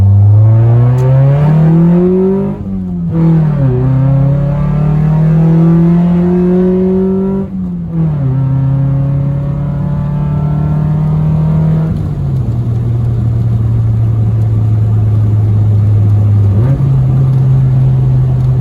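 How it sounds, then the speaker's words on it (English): A 1994 Honda Accord coupe drives along with a loud engine note, repeatedly revving up through the gears and shifting in a steady rising-and-dropping pattern, close and continuous. "here's a little driving clip before I do that"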